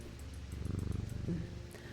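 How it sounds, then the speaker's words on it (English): A cat purrs softly in a video game, a brief rhythmic fluttering rumble swelling for about a second when petted, faint and close. "Oh, we forgot to pet the cat."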